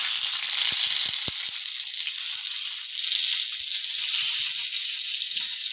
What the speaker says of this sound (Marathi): त्यात तेल घ्यायचं आहे 1 चमचाभर आणि हे टोमॅटो सगळे त्यात असे ठेवून घ्यायचे.